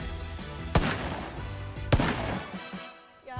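R18 revolver fired in PUBG: two sharp, heavy single shots about a second apart, each cracking loudly over a continuous tonal backdrop.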